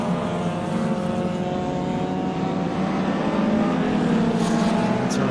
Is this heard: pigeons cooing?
no